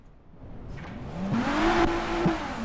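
A car engine drifting in Japanese Drift Master revs steadily upward, its pitch rising and holding at a high whine with a couple of quick throttle blips, loud and close with no talking.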